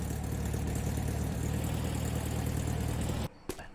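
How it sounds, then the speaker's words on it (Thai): Car engine idling in the video game The Long Drive, a steady low rumbling drone that cuts off abruptly near the end, followed by a brief clunk and quiet. "ดับเครื่องยนต์ได้สักทีนะครับ"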